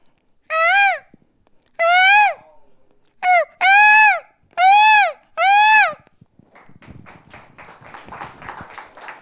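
A voice imitates a peacock's call: six loud, rising wails in quick succession, followed by a rustling, scratchy noise.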